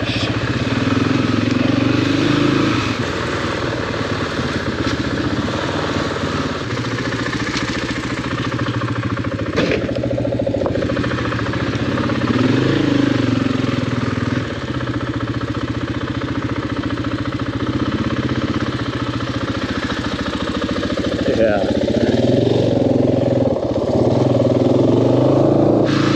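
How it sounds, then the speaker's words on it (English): Motorcycle engine running steadily and close, a continuous mid-pitched drone with a brief dip and shifts in pitch as it moves, recorded during a ride in Central America. "I don't know if motorcycles are allowed to go right there."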